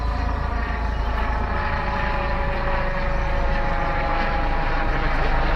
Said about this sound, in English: Police helicopter. Watching out for us. They're keeping an eye on us.